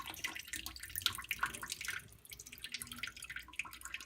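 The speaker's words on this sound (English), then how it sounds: "just pour off what I need to get rid of the water" Cooking water is poured off a pot of quinoa through a sieve, a faint, soft trickle with scattered drips and splashes in a quiet kitchen.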